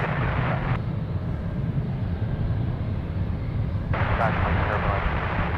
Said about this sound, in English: Was that the loudest departure,